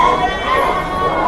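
Sheep and goats at a livestock market selling Garut and Priangan sheep, with bleating mixed into a steady crowd and chatter background, people talking throughout.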